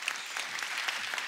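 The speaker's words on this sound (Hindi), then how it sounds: "एक बार श्रद्धा और सुशांत के लिए जोरदार तालियां।" Studio audience applause welcoming Shraddha Kapoor and Sushant Singh Rajput on a TV comedy show, a brief burst of dense, even clapping from a large crowd with no voices on top.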